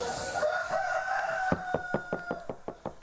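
Chickens on a farm, hens that have been pecked and had feathers torn out by others, clucking with a run of sharp knocking pecks, close and moderately loud, with no talk.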